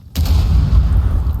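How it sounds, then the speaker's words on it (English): A single grenade explosion in Rainbow Six Siege: a sharp, loud blast with a deep boom that rolls on for over a second, close by and heard on its own. "Nade coming out, not doing any damage, however."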